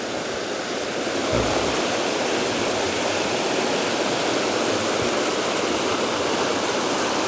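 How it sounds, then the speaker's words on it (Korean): Water rushes steadily down a stream in a park, a loud, continuous broadband wash with no talk and no pauses. "지금 물이 이렇게 흘러 내려가는데"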